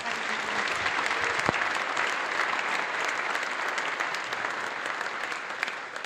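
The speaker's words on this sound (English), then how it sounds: "Round of applause for Wallace and Margaret" Church audience at a Fields of Life event giving a steady round of applause, dense and even clapping sustained throughout with no pause.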